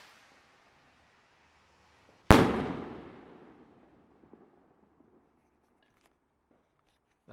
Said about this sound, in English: This one's a Pathfinder rocket by Celtic.